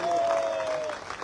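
Indian audience applauding at a large Jaipur corporate rally, a loud sustained wash of clapping with a crowd whistle or cheer riding over it, fading slightly toward the end.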